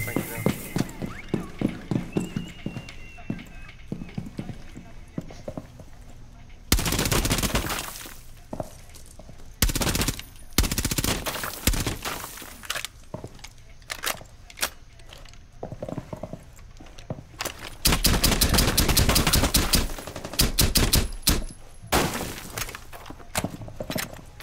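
Gunfire and breaking wall debris during a Rainbow Six Siege team deathmatch on the Consulate map as attackers shoot out the garage, rapid crackling bursts and long shattering blasts under people talking.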